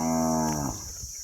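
A cow moos once, close up, a long, loud, harmonic low call that tails off after about a second, heard alone in a village herding setting.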